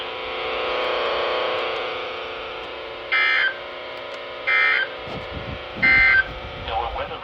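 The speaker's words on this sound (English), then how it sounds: "this has been a test of the National Weather Service's radio public warning alarm" A NOAA Weather Radio receiver plays its weekly required Emergency Alert System test: a steady broadcast hum or tone followed by three short, loud digital data bursts spaced about a second and a half apart, then faint indoor noise.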